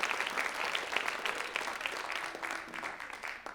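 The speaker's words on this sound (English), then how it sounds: "Round of applause for them." Crowd clapping at a school writers' week event, a lively, busy patter of many hands that tapers slightly toward the end.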